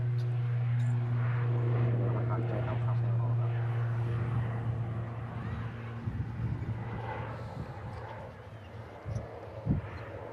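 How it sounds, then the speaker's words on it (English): An ATR turboprop airliner taking off from the south runway at Manchester Airport, a steady droning propeller hum that slowly fades into distant rumble, with someone talking over it. "as that ATR rotates off the south runway"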